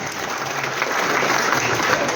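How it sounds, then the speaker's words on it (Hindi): Audience at a Holi gathering in Baghpat breaks into loud, sustained applause, dense clapping from many hands filling the space nearby, with some voices mixed in. "जोरदार तालियां"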